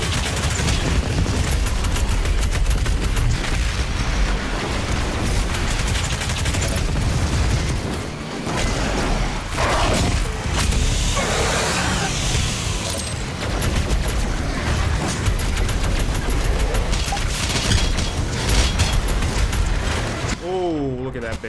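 Continuous loud explosive combat din from the shooter Doom Eternal, rocket launcher blasts and booms piling together densely over the whole stretch, with no gaps between detonations.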